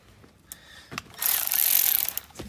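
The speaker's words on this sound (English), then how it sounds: "So I'm just going to unscrew all 4 of these bolts and the column will drop." A socket ratchet clicks in short bursts, then a longer steady run of rapid ratcheting as it unscrews the steering column bolts on an Opel GT, close and fairly quiet.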